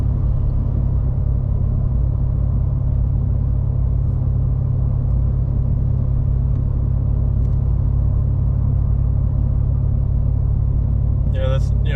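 A Ford F250 pickup with a 7.3 diesel engine and an MBRP 4-inch exhaust cruises at about 1,500 RPM and 60 mph, giving a steady deep rumbling drone from inside the cab.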